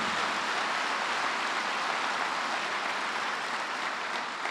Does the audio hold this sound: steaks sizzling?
no